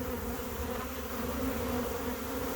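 A steady, dense buzzing of many honeybees left behind after a swarm, continuous and fairly loud throughout, with no talking.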